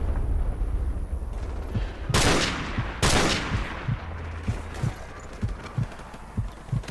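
Gunfire in Call of Duty 4: Modern Warfare Remastered, two loud close shots followed by a run of softer, muffled thuds spaced out in irregular rhythm, as if distant return fire.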